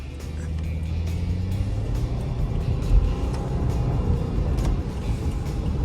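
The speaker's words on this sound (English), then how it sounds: "That's that little Boxster engine under there, okay? The little Boxster motor." Subaru Forester crossover idling with its small boxer engine, a steady low rumble heard from inside the cabin with the air conditioning turned down, continuous and even with no speech.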